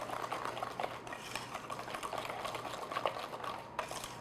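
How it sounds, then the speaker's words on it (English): Cake batter for an upside down cake is beaten by hand with a whisk in a bowl, giving rapid continuous scraping and light clinking strokes at close range. "I'm going to use my whisk."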